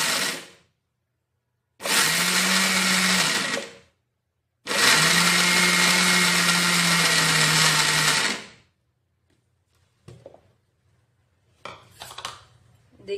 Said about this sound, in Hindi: मिक्सर के जार में ये सब डाल दिया है, अभी इसको हम क्रश करेंगे।